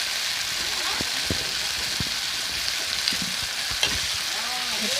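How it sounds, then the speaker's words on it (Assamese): Fish belly pieces fry with brinjal in a pan, giving a steady loud sizzle with scattered crackles and pops from the hot oil throughout. "এতিয়া অকণমান সময় এনেদৰে ভাজি ল'ম ভালকৈ পেটুখিনি।"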